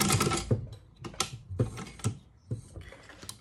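Sewing machine stitching a waterproof double-sided fabric placemat, bursts of rapid mechanical clatter starting and stopping several times, close and loud with brief pauses between runs.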